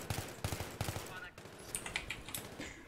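Rapid automatic gunfire in Battlefield's Operation Metro map, repeated bursts of sharp shots close by, with a short break midway and muffled battle noise continuing afterward.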